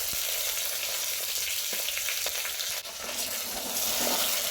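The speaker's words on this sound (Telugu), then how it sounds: "మెంతాకు అలాగే కొత్తిమీర కూడా వేసి ఆయిల్లో ఫ్రై చేసేసుకుందాం" Garlic greens, fenugreek leaves and coriander frying in hot oil in a pan, a dense steady sizzle and crackle with occasional stirring scrapes, close and continuous with no talking.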